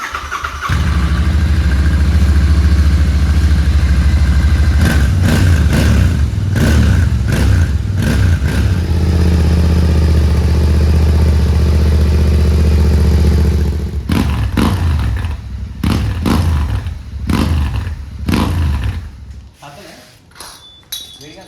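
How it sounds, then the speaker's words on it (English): A Royal Enfield Interceptor 650 motorcycle running on its stock exhaust, a loud steady engine rumble for most of the span, then quieter with short blips and knocks near the end. "And this is our stock exhaust sounds like."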